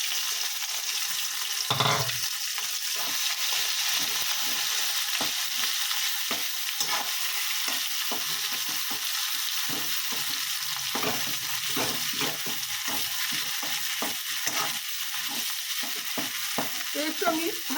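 Amudi fish frying in hot oil with black cumin in a pan, giving a steady sustained sizzle with intermittent crackles and a clatter of utensil contact near the start, close and without speech.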